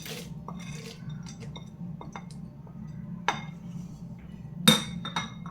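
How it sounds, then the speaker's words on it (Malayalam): A spoon clinks and scrapes against a metal pot while jackfruit payasam with fried coconut pieces, cashews and raisins is stirred, with scattered light taps over a low steady background hum. "ഇളക്കി മിക്സ് ചെയ്ത് കൊടുക്കാം"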